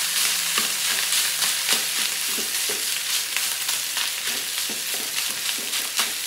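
Garlic sizzles and fries in a pan ahead of the rice, a steady close crackle with stirring scrapes throughout and no voices.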